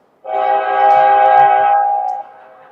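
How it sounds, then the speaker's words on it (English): A train whistle is played over the sound system at a AAA youth hockey game: one loud, sustained, steady blast of about two seconds that stands alone, followed by a faint tail of arena noise. "Not sure what the train whistle was all about, but that was fun."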